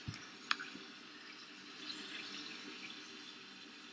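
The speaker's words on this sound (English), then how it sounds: "Yeah, I'm taking a shower!" Running water from a shower in the Roblox game Bloxburg, a steady soft hiss with faint splashing and a couple of brief clicks, fairly quiet and continuous throughout.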